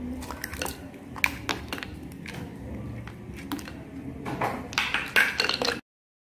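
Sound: ice cubes added to potatoes in water

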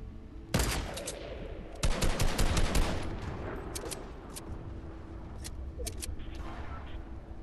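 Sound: gunfire from the video game Fortnite

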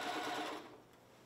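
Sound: sewing machine stitching a fabric hem

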